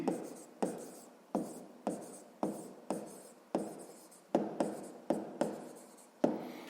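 Pen strokes on a notebook page during a sixth-grade maths exercise, a steady series of about ten short scratchy bursts, each sharp at the start and fading out, close and alone with no talk.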